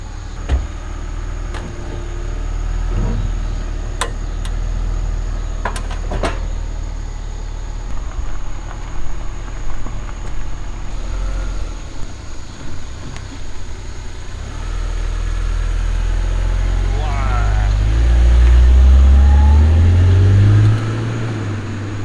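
A BMW engine heard while driving down a road and downshifting hard, a low steady drone with scattered clicks and knocks, swelling into a louder deep rev toward the end.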